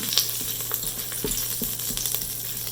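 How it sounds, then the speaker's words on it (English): Cinnamon sticks and slit green chilies frying in hot oil inside an Instant Pot, a steady close sizzle with occasional light clinks and stirring taps. "Just fry it for 30 seconds or so."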